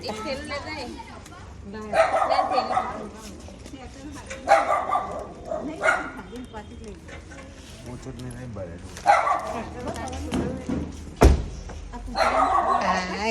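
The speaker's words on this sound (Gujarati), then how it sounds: "કૂતરું ભસવા માંડ્યું." A dog barks in short bursts several times, moderately near, mixed in with ongoing chatter from people in a busy household.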